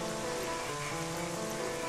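Steady rain falls in Zelda: Twilight Princess, a constant soft patter and hiss with faint tonal game music underneath, no voices.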